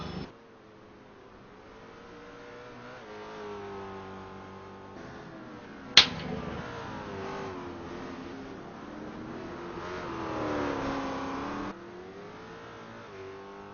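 Racing video game engine of a car pushing hard through the Carousel S-bends at the Nürburgring Nordschleife: a continuous high revving drone that rises and falls with gear changes, with one sharp crack of a shift or backfire midway.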